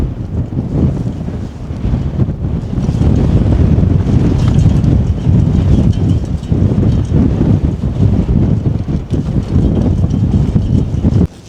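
Strong wind buffets the microphone on an exposed mountain top, a loud, continuous roar with gusty surges that holds steady for the whole stretch, with no talking.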